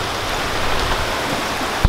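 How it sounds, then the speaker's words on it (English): Steady rain pours down outdoors, a dense continuous hiss of drops on surfaces, close and loud, with a brief louder knock near the end. "Just in time before the rain hit."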